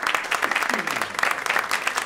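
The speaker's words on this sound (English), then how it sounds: "Keep clapping. Give them some extra applause." A crowd at the 44 Charlton venue claps for performers after their set, a loud, busy patter of many hands with rapid overlapping claps throughout.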